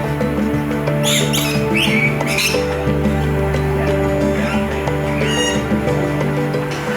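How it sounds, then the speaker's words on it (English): Rainbow lorikeets at the Little Rock Zoo in Arkansas give a few sharp squawks and chatters over a steady hum of background noise and a distant busy crowd. "rainbow lorikeets are a species that you'll find in Australia and New Zealand"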